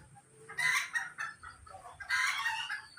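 Loud, close bursts from a chicken crowing and clucking near a home kitchen, two strong calls separated by softer clucks, with no talk.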